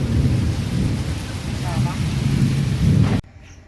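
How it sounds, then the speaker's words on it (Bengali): Rain falls steadily while a deep thunder rumble rolls through at close range, loud and continuous, then cuts off abruptly near the end. "এই যে বৃষ্টি পড়ছে, কেমন মেঘ ডাকছে, বাপরে।"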